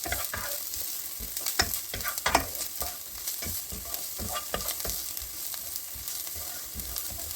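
Ingredients for egg cutlet sautéed in a pan over low flame, with salt added: a steady close sizzle broken by frequent scraping stir strokes, continuous across the whole stretch with no talking.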